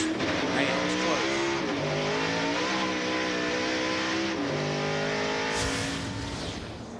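NASCAR race car engine at the 2003 Subway 400, heard onboard Johnny Benson's car: a loud, sustained engine drone with rising and falling pitch as it shifts, continuous throughout with commentary talk layered over it.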